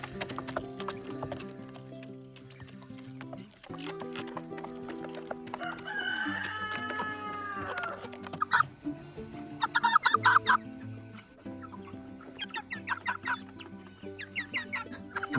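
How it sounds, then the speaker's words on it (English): Chickens clucking in an outdoor breeding pen, with a rooster crowing loudly in the middle and more bursts of clucking and squawks close by. "I'm out here today with my chickens."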